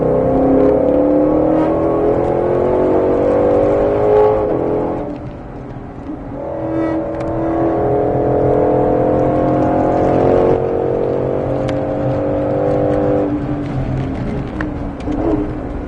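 2021 Ford Mustang GT500 lapping a race circuit, its engine climbing in pitch through repeated accelerations, dropping once midway before pulling hard again, steady and loud from inside the car.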